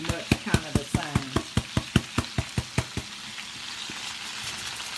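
Fried cabbage is stirred in a pan with bacon and seasoning, a spoon knocking and scraping the pan about a dozen times in a steady quick rhythm over a soft frying sizzle, then the sizzle continues alone.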